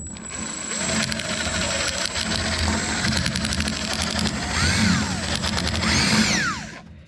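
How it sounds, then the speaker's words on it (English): A power drill with a drill bit whirs steadily up close for several seconds while restoring a 1969 Dodge Charger R/T, grinding with a high mechanical whine that rises and falls before stopping. "I think I'm just gonna do it with a drill bit"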